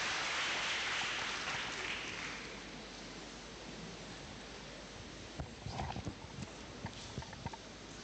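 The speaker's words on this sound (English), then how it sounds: "A round of applause." Audience applause at a university distinguished faculty lecture, a broad burst of clapping loudest at the start and fading over a few seconds, followed by scattered thumps and rustling.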